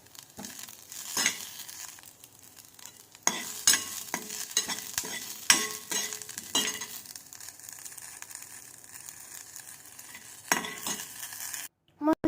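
Cumin seeds and green chillies fry in a pan, crackling and sizzling as a spoon scrapes and stirs in irregular bursts, close and fairly quiet, with a brief cut near the end.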